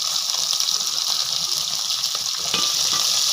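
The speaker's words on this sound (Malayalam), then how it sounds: "ഇതിപ്പോൾ നമ്മൾ ഈ സവാള എല്ലാം ഒന്ന് വഴറ്റി കിട്ടാൻ വേണ്ടിയിട്ടാണ് ഉപ്പിടുന്നത്" Onions and shallots sautéing in a pan with dried red chillies, garlic and ginger for a Kerala-style crab roast, giving a steady close-up sizzle with light stirring scrapes throughout.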